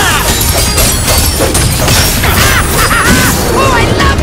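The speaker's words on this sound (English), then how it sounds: "Oh, I love the sound of cannon fire!" Loud cannon blasts in the video game Skylanders Imaginators boom and crash repeatedly in a dense, chaotic barrage, with whooshing and zapping effects layered over the battle.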